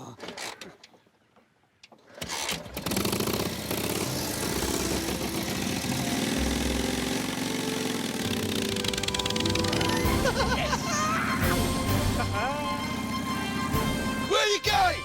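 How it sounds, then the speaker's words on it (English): Old engine starting and running steadily with a rough, continuous chugging rumble, while people talk over it. "Sounds like an old tractor."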